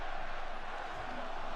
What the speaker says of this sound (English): LA Knight as the crowd's coming alive here.